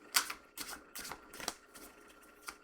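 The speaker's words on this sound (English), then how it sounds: "we'll just give it another shuffle quickly" Quick riffling bursts of shuffled tarot cards, about five crisp flutters spaced through the clip, close and fairly quiet.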